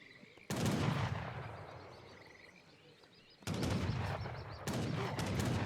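In a match of Age of Empires III, a town center fires volleys of gunfire. The shots come in sudden loud crackling bursts that trail off, with faint battle clatter in between and no voices.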